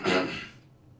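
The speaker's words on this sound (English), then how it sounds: "Let me clear my throat." A quick, close throat clearing, one raspy burst that fades within half a second.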